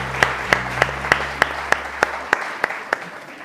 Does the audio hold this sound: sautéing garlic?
no